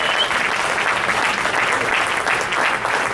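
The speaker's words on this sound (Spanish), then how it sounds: "Dar un aplauso al Señor." A church congregation applauds, a dense, loud burst of clapping from many hands that fills the room steadily for a few seconds.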